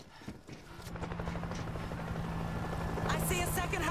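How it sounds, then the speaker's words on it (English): Helicopter in the zombie shooter World War Z, its rotor chop swelling into a steady, thrumming drone that grows louder and nearer, mixed with game sounds and a voice speaking. "I see a second helicopter."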